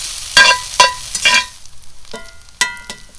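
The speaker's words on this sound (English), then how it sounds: "the secret to hash browns is to let them sit in the hot pan for a while before you mess with them" Hash browns frying in a hot pan, with intermittent bursts of crackling sizzle and scraping, close and fairly loud, and no voices.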